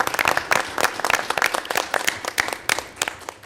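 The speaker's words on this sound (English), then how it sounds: "let's round of applause." A small group claps at a school board of education meeting, with individual hand claps close and distinct in an uneven, lively rhythm that keeps going throughout.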